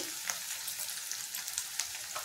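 Chopped onions and tomatoes frying in a pan for a brinjal and sweet potato curry, a steady close hiss of sizzling oil with small crackles and a clink at the end, no talking.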